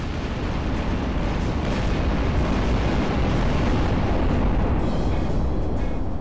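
Bombs exploding in the game Garry's Mod, a loud, sustained roaring rumble of blasts blending into a continuous wall of noise with faint crackles on top.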